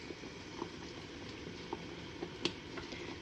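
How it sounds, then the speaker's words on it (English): Marmalade at a rolling boil in a pot bubbles quietly and steadily, with a few soft pops and blips rising over the low simmering hiss. "And I bring it to a rolling boil, which sounds fun."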